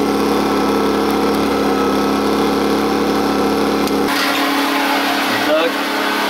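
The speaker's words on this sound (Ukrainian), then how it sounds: "Насосна станція запущена." A domestic water pump station runs with a loud, steady motor drone, its tone shifting partway through as the pump settles into operation.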